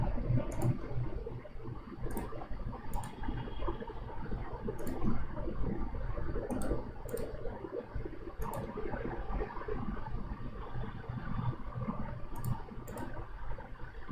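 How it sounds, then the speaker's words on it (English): A computer mouse is clicked during structural design work in software. About a dozen sharp, faint clicks come at irregular intervals over a steady rumbling background noise. "left click, right click"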